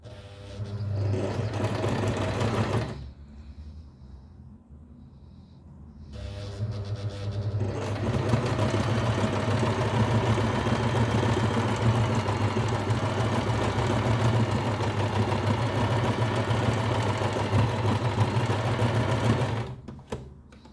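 Sewing machine running steadily as it stitches clothing for sphynx cats, a loud continuous motor hum and needle chatter, pausing briefly partway before resuming for a long uninterrupted run.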